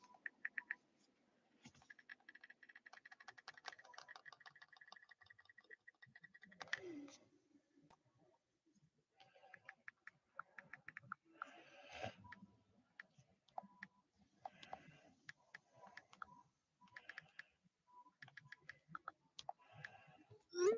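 Soft, rapid clicking of keys on a computer keyboard in a quiet room, typed in bursts with brief pauses, close and fairly faint.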